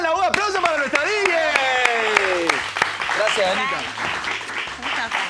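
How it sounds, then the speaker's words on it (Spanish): Studio audience claps for the DJ on a football talk show, scattered applause running beneath someone speaking loudly over it, with music-like tonal sweeps mixed in. "¡Un aplauso para nuestra DJ!"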